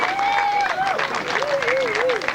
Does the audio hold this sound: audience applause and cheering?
yes